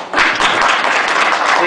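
A dense, steady wash of audience applause at an aldermanic candidates forum for the 50th Ward, filling the room from a sudden start and holding loud throughout.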